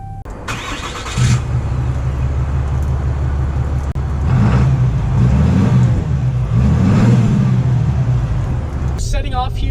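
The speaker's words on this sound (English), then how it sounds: "Setting off here in the 2019 Ram 3500" A 2019 Ram 3500 Mega Cab diesel pickup fires up and drives off, a loud steady diesel drone that swells as it pulls away, with a voice talking over the engine.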